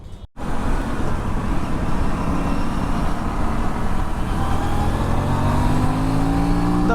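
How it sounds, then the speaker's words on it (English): Aprilia RS 457 motorcycle engine starting up and riding away after a service, a loud steady engine drone with rising pitch as it accelerates, close and alone without talk. "now it's time to take it back home."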